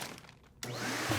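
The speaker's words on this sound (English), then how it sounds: "The vacuum is sucking all the air out of the bag" Vacuum cleaner switching on abruptly and drawing air out of a plastic bag through a nozzle, a sudden loud steady whine that holds after a quiet start.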